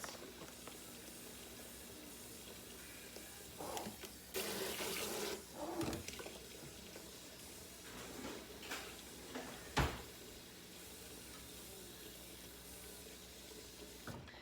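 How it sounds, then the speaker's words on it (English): Hot tap water runs into a bucket with a brief, rushing splash, followed by faint clunks and knocks of handling nearby in a quiet room. "I have a little bit more to fill up in this bucket."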